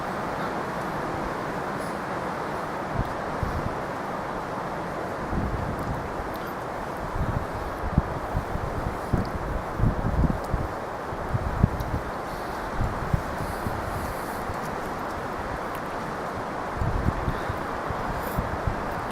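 Wind blows steadily on a cold, windy day, making a constant whooshing rush with gusty buffeting against the microphone and faint rustling throughout.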